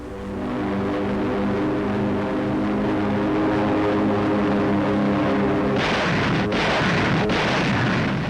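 WWII fighter planes strafe enemy airfields in the Southwest Pacific: a sustained loud roar of aircraft engines gives way to a harsh burst of gunfire and explosions.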